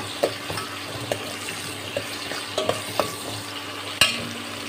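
Whole spices fry in a pan while a spoon stirs them. Soft sizzling runs beneath sharp metallic scrapes and taps that come every second or so, close by and without speech.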